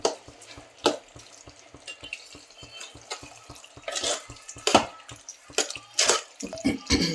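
A cauliflower curry with a little added water simmering in a pan, soft bubbling and stirring scrapes in irregular bursts, close and moderately quiet.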